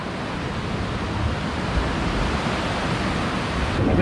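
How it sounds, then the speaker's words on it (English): Sea waves washing up on an island shore in the Philippines, a close, continuous wash of surf that swells slightly toward the end with no voices. "but the waves keep coming up"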